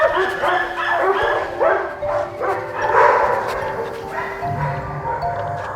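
Several dogs at an animal shelter bark and yip in a busy chorus, with overlapping barks throughout and a steady low rumble underneath.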